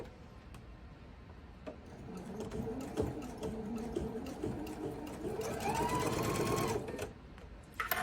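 A sewing machine runs slowly across a thick seam while piecing a seaside quilt block, a close, steady rhythmic needle chatter lasting several seconds before easing off.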